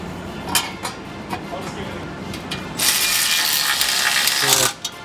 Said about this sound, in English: so he's got the Snap-on cordless electric ratchet here